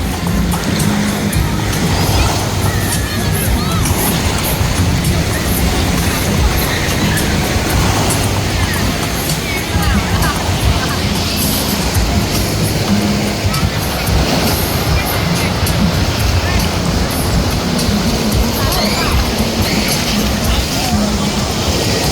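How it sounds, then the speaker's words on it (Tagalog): Strong ocean waves roll onto a busy Boracay beach at sunset, a steady loud wash of surf filling the whole scene, with people talking throughout. "Lakas ang alon."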